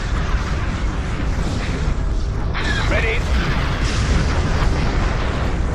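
Steady roar of laser cannon blasts and explosions from a space battle in the Star Wars Empire at War video game, dense and continuous, with brief voiced lines layered over the rumble.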